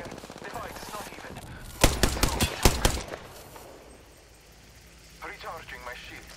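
Video game firefight with a sharp burst of rapid automatic gunfire, a cluster of loud close shots lasting about a second, over steady game background noise with a voice speaking.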